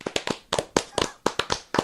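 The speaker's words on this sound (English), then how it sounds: "We should give him a round of applause right now." A few people in a small room giving a sparse round of applause, with distinct irregular handclaps close up, about a dozen sharp claps spaced unevenly over a couple of seconds.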